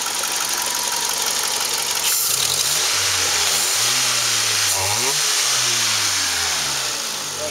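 A 2002 Ford Focus with a 2.0 single overhead cam engine and automatic transmission, showing 122,322 miles at a salvage yard, runs steadily up close, then revs up and down several times, loud and alone.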